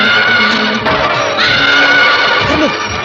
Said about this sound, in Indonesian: di bawah sana ada seseorang sedang menunggang kuda